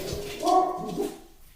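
A dog gives a short whining bark followed by a softer second yelp, close by indoors, with a few other dogs suggested in the background.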